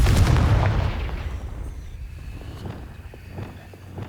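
A Confringo fire-blast spell explodes in the Hogwarts Legacy video game, a loud booming blast with a deep rumbling roar at the start that slowly decays into a fading, crackling tail, with no voices over it.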